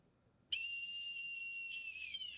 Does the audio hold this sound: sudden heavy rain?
no